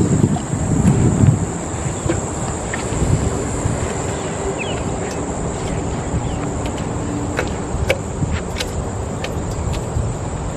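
A Rover Mini Rider 382/30 ride-on lawn mower driving fast over grass, with a loud, rough, continuous engine drone and rumble mixed with heavy wind buffeting, a high steady whine running throughout.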